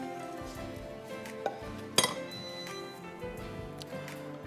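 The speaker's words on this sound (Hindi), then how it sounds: "उसके लिए मैं एक सॉस पैन ले लेती हूँ, थिक सा होना चाहिए" A thick saucepan is lifted out in a kitchen: soft metallic knocks and a sharp clink of pots and utensils, close and fairly quiet, over a low room background with no speech.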